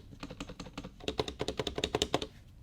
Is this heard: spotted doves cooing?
no